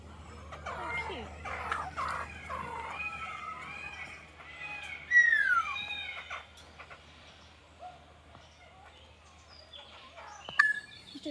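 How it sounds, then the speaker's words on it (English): At a zoo, a spotted laughing thrush gives a run of clear, whistly, sliding calls, some rising and falling sharply, under a low background hum with faint distant sounds. "Spotted laughing thrush."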